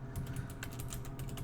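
Steady typing on a computer keyboard during a coding session, with rapid, evenly spaced key clicks over a constant low room hum, close and moderately loud.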